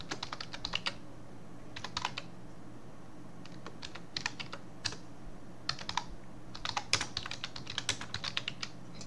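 Typing on a computer keyboard, close crisp key clicks in quick bursts and short flurries with pauses between, alone without talking.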